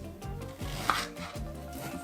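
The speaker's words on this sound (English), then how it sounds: "Cut the skin off the ginger and cut into 5 pieces." A knife chops peeled ginger steadily on a cutting board, a few firm, close strikes in a loose rhythm with faint kitchen clatter.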